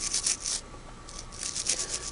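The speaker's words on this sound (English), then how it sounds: "me scrub that" Scrubbing heavily stained plastic on a vintage sewing machine: short, soft, bristly rubbing strokes repeated in uneven rhythm, close and fairly quiet.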